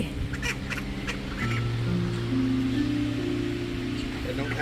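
Ducks quacking at a pond in a Bangkok park, several calls close by over outdoor ambience, with a steady droning tone running through and people talking nearby.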